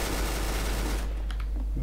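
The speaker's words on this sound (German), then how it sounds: "ich schieße auf den Schrank." Rapid automatic gunfire aimed at a cupboard in the game Trouble in Terrorist Town, a dense continuous burst for about a second before cutting off to a low hum and a few faint clicks.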